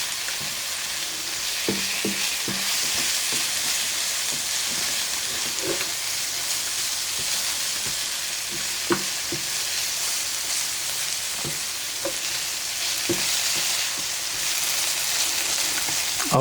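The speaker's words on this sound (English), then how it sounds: "that's been sauteing for about a minute there." Food sautéing in a pot for an Italian one-pot meal, with a loud continuous sizzle and occasional soft knocks of stirring throughout.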